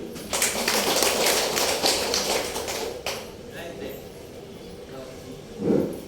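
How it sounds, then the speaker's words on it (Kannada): A burst of clapping from a group at a school parents' meeting, dense and steady for about three seconds, then thinning into scattered claps and murmuring voices. "ಒಂದು ಚಪ್ಪಾಳೆ ತಟ್ಟಿ"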